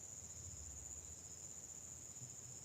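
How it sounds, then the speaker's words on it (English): Steady high insect-like chirring from a monkey frog (combo toad) calling at night in the Peruvian Amazon, a continuous even drone with no talk. "The combo toad was all around, doing mating calls throughout the ceremony."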